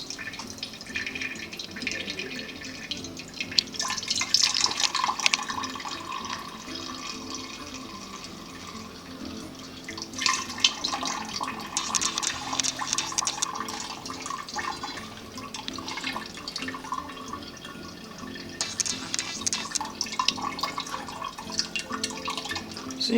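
Homemade alcoholic zobo drink, with blended pineapple and ginger bits, draining through a sieve: a steady wet trickle and splash of liquid runs throughout, swelling in louder bursts as more is poured.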